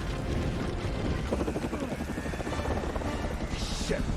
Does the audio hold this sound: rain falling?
no